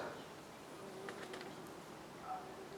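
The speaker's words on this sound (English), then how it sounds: "I'm sitting here with the buzz of bees right up my ears as they're feeding on a geranium here" Bees buzz softly right beside the listener as they feed on geranium flowers in a garden, a faint, continuous hum with brief louder passes.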